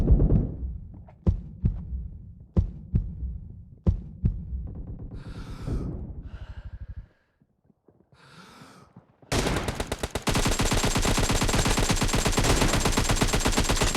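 Gunfire in the video game PUBG: several sharp single shots spaced a second or so apart, a short quiet gap, then a loud, sustained burst of rapid automatic fire.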